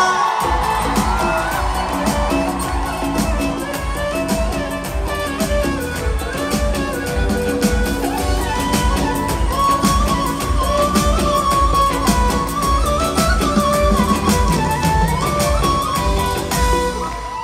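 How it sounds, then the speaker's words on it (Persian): A packed concert audience at a Toronto show in October 2024 screams, whoops and cheers in a dense, continuous roar that stays loud throughout, with music blending underneath. "صدای جیغ تک تک این صندلی ها رو میخوام"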